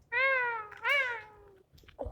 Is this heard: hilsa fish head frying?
no